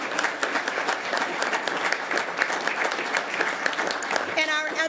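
Attendees at a school board meeting give a dense, steady round of clapping for an honoree, with a voice starting to speak as it ends.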